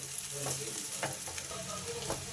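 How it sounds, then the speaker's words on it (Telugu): A utensil stirring egg noodles with garam masala and vegetables in a hot pan, soft scraping strokes over a steady background sizzle, fairly quiet and close, with no talking. "గరం మసాలా వేసిన తర్వాత ఇప్పుడు నూడిల్స్ని మనం మంచిగా మిక్స్ చేసుకుందాం"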